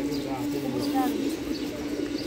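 Pigeons coo softly in a loft holding some twenty to twenty-five birds, a steady low murmur running under ongoing conversation.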